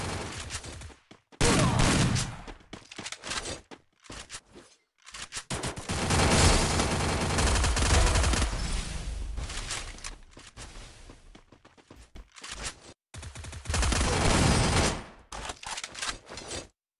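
Loud bursts of rapid automatic gunfire in Free Fire mobile come in long volleys separated by short pauses of near silence, harsh and close throughout.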